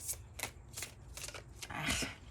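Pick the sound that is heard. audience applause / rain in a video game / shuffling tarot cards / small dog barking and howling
shuffling tarot cards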